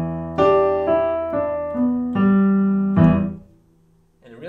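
A blues line played as a broken octave with separate single notes in a steady rhythm, then finishing on a full octave chord that rings out and fades, close and clear with no talking.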